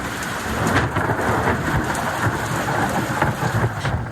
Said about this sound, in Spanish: Y en Viña del Mar la gente se despertó con el fuerte sonido de los truenos.